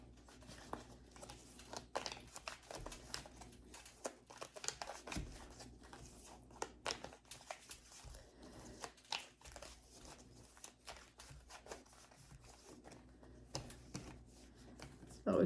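Tarot cards are shuffled close up in soft, repeated riffling and crinkling bursts, quiet and alone without talk.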